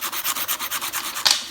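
A sanding sponge is rubbed quickly back and forth over the feed ramp of a 1911 fusion barrel, about a dozen even, close scrubbing strokes ending in a brief sharper scrape.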